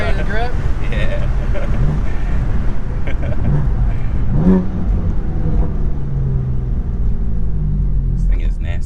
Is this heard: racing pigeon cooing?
no